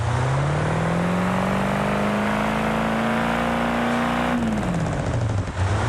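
Car engine in BeamNG.drive revs up with a steadily rising pitch, then drops sharply as engine braking takes over, a loud continuous drone heard alone throughout.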